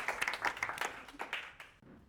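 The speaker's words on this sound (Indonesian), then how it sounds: "Tepuk tangan buat kelompok 4" A classroom of pupils claps for group 4, a scattered burst of hand claps that thins out and fades toward the end.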